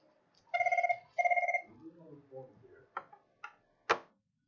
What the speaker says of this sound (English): See if it starts ringing again.